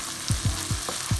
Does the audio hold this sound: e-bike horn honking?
no